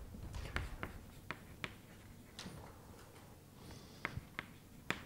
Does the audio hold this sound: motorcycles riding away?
no